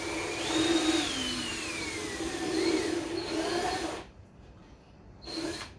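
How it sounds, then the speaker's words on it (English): A power drill whines steadily up close while drilling holes in a cajon, its pitch wavering as it bores, then stops and briefly starts again. "who's going to drill another 2 holes."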